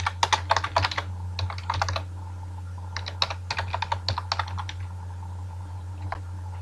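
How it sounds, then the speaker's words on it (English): Close computer keyboard typing in quick bursts of crisp key clicks separated by short pauses, over a steady low hum, with no talking. "So you have to type your file name, which is input.py."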